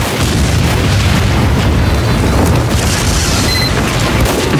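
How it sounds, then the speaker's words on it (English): Sustained booming bursts of fire from a flare gun in the video game Team Fortress 2, loud and continuous throughout with dense low rumble and no clear gaps. "I'm just bullying this one sniper with my flare gun."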